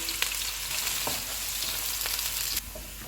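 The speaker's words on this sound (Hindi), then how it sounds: "ऑयल गर्म हो गया है, इसमें प्याज डालेंगे। इनको गोल्डन ब्राउन फ्राई करेंगे।" Onions sizzle and fry steadily in hot oil in a home kitchen pot, a dense continuous hiss with a few brief clicks and crackles, close and alone without talk, dropping slightly in level near the end.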